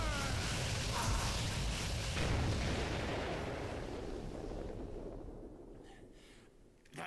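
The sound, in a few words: Destroy Buster special attack in No More Heroes video game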